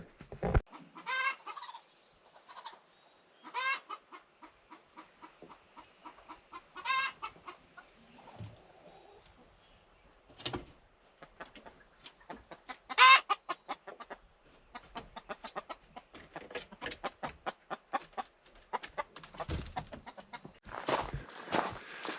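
A backyard chicken clucks in short, quiet bursts spaced a few seconds apart, with softer rapid clucking near the end and no talk over it.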